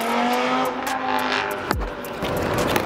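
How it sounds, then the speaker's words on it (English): A modified Colab Tuning Audi RS3 launches hard, its engine droning loud then dropping into sharp crackles and pops, a close, harsh burst of exhaust noise without talk. "I think we might get a launch of the Colab Tuning RS3, you guys"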